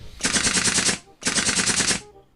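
Two long bursts of rapid automatic gunfire from the video game Free Fire, each lasting under a second, loud and close, separated by a short pause, with a sharp shot at the very end.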